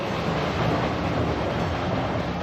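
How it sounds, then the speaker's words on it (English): A steady, continuous rumble of a train running nearby at the Efteling theme park, broadband and even, with no voices over it. "But that does sound like a train."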